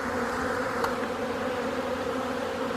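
Honeybees flying at the entrance of a hive in February, making a steady, close buzzing drone that holds evenly all the way through, with no talk.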